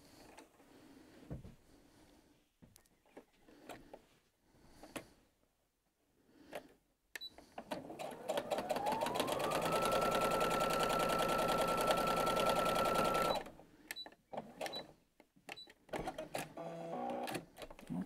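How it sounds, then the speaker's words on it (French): A sewing machine stitches quilt pieces at a quarter-inch seam, its motor humming in a steady, fast mechanical run for about six seconds, bracketed by quieter handling noises and short stops. "on va le coudre pareil avec un quart d'inch"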